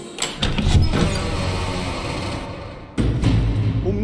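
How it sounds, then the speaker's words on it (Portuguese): Door sound from the video game Boris and the Dark Survival: a heavy mechanical rumble that opens with sharp knocks, sustains loudly for a few seconds, drops briefly and then surges back with another clatter, with no talk. "no final, fazer o barulho da porta."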